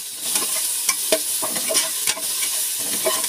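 Chicken sotanghon soup ingredients, seasoned with bouillon cubes and pepper, are stirred in a pot, with repeated scraping strokes over a steady hissing sizzle; no one talks.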